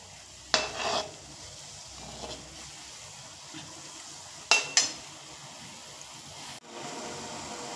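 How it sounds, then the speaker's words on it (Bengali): Sweet potato pantua fry on a low flame, giving a soft, quiet sizzle broken by a few sharp clinks and scrapes of a utensil against the pan. "আমি কিন্তু শুরু থেকে শেষ পর্যন্ত লো ফ্লেমেই ভাজছি।"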